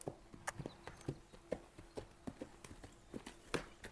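A horse trots in a riding arena, its hooves striking in a steady, evenly spaced clip-clop rhythm at moderate distance, fairly quiet, with no talk over it.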